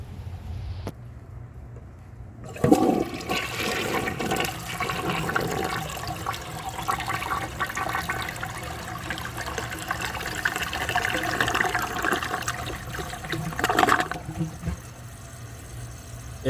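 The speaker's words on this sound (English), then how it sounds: "It has a very nice flush, but the siphon just seems too weak." A 1983 Mansfield Imperial toilet flushes, a loud rushing surge of water that swirls steadily for over ten seconds, swells again briefly, then trails off into refilling.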